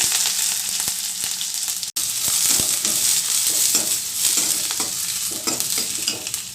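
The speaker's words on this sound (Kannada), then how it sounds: "ಎಣ್ಣೆ ಕಾದಿದೆ ಈಗ ಸ್ವಲ್ಪ ಸಾಸಿವೆ ಈರುಳ್ಳಿ ಮೆಣಸಿನ್ಕಾಯಿ" Mustard seeds, onion and green chillies fry in hot oil for a chilli fry, giving a loud, steady sizzle with spatula stirring clicks throughout and a momentary break partway through.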